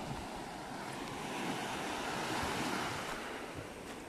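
Ocean waves washing onto a sunrise beach at high tide, a continuous close roar of surf mixed with wind buffeting the microphone, no voices.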